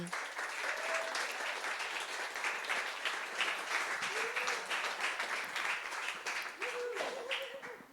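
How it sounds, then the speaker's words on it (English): Sustained audience applause welcomes artist Solimán López to the stage at an arts projects talk, a dense steady wash of clapping lasting throughout, with a faint voice briefly audible beneath it. "please receive Solimán López with a huge applause"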